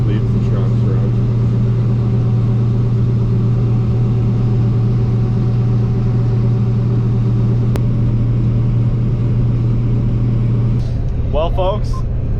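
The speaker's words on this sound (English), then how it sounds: "I love how Joey just leaves the trucks run." A farm truck's engine idles steadily with a loud, continuous low rumble during a grain harvest, and brief voices and clatter come in near the end.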